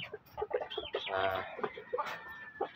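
A hen clucks in a backyard breeding pen where eggs have been laid, a series of close, choppy clucks with brief pauses between them.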